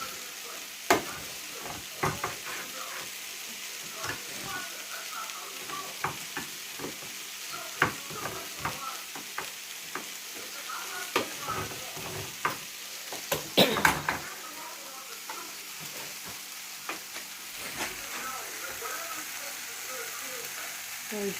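Coconut milk sizzles softly in a pan while a utensil stirs it, giving irregular scraping clicks and taps over a steady low frying hiss, fairly quiet and close.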